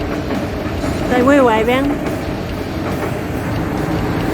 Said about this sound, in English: Train we were waving at.